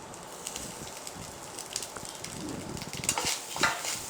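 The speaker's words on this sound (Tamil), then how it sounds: "இதையும் நல்லா போட்டு வறுக்கிறோம்." Grated coconut and peanuts fry in a pan, with a soft steady sizzle and scattered crackles and pops that grow a little livelier toward the end. Quiet, close, and free of talk.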